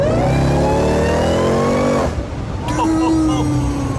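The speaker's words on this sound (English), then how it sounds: "I can't believe that supercharger whines like that." A supercharged 2018 Jeep Trackhawk engine revs hard with a rising supercharger whine, cuts off briefly, then picks back up with a steady high whine over the rumble.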